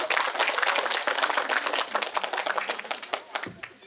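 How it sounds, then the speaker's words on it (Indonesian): Hearty audience applause for a film producer at a Share Edu stage event, loud, dense clapping from a crowd that thins into scattered claps toward the end. "Tepuk tangan yang meriah buat Pak Chandra"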